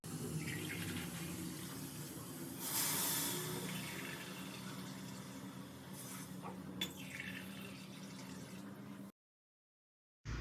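Water pours steadily into a cooking pot, a continuous splashing flow that briefly swells louder before cutting off into silence near the end.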